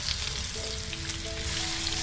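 Pieces of raw mango fry in a pan over a medium flame, giving a steady close sizzle with soft crackles and no talking.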